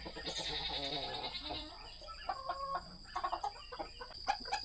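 A small hen clucks outdoors among a small flock of chickens, with short, moderately close calls repeating over steady background noise.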